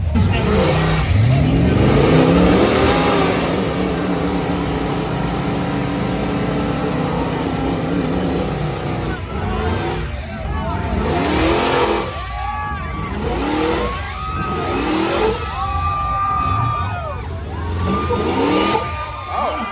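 Engines rev hard as a mud buggy and a small Jeep strain against each other in a truck tug at an outdoor truck event in Sanford, Florida, rising and falling in repeated bursts under crowd shouts and talk.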